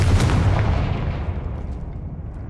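A Confringo blasting spell explodes in Hogwarts Legacy, a loud deep boom at the start that rumbles and slowly fades away over a couple of seconds, with no voices.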